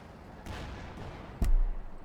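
Gunfire in the strategy game Company of Heroes 2: a soft burst of distant shots, then a heavier thudding shot with a low booming tail, muffled beneath ambient battle noise.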